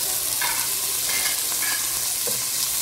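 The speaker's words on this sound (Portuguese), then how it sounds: "O bacon já tá fritando, ó." Bacon frying in a pan on a home stove while being stirred, a steady loud sizzle with scraping stir strokes throughout, no voices.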